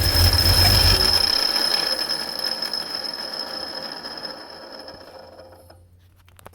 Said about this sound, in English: I'm just going to start it real quick for you guys to see, Doug.